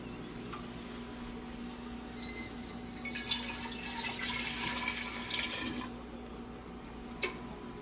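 Cooled fresh sweet tea is poured into a kombucha brewing vessel, four cups at a time, making a steady, close liquid splash and trickle that swells in the middle and then tapers off.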